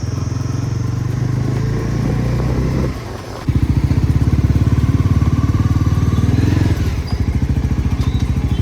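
A Pulsar NS400z motorcycle rides at speed, its engine loud and close with a steady rapid thrum, a brief dip mid-way, then pulsing on again with a rough, clattering beat.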